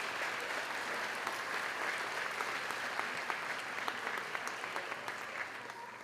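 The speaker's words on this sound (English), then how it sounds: "Students, let's give our families a round of applause." An audience at a school moving-on ceremony applauds families, with sustained clapping from a large crowd that holds steady for several seconds and then starts to fade.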